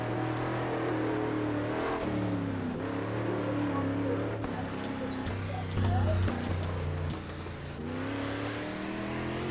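Race car engines at a dirt oval track for 410 sprint car qualifying, revving and roaring by at moderate distance, pitch rising and falling as they pass, with voices talking over the motor noise.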